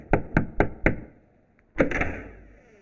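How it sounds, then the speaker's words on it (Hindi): Four sharp, evenly spaced knocks land on a door, then after a pause a louder knock rings out, close and crisp against near silence. "कोई दरवाजा खटखटा रहा है, जाके देख।"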